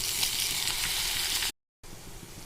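Tomato and egg fry in a pan with a steady, loud sizzle that drops out briefly before resuming, with no voices.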